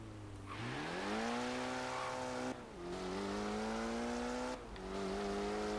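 A roughly 300-horsepower car in Forza Horizon 3 accelerates hard during an acceleration test, its engine revving up through three rising pulls separated by brief gear-change dips, loud and steady with a faint tire squeal.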